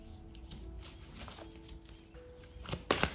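A tarot card is pulled from the deck with soft papery rustling and shuffling, ending in a sharper flurry of card noise, close and quiet.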